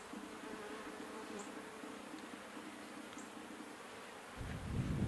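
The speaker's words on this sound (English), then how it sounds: "Good number of bees." Honey bees humming steadily around an open hive whose frames hold brood, honey and nectar, a dense continuous drone close by that swells slightly louder toward the end, with no voices.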